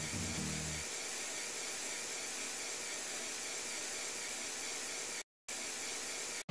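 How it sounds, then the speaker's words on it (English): A can of winter-scented aerosol room spray sprays in one long, loud, steady hiss that lasts several seconds. It breaks off once briefly, then resumes, and no one talks over it. "So I have this can of room spray, winter flavor, and we're gonna have some winter coffee."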